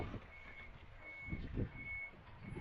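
A truck reverses at a second-hand goods market (haraj) in Dammam, its backup alarm beeping in a steady repeating pattern, faint against low market bustle and engine rumble with no talking.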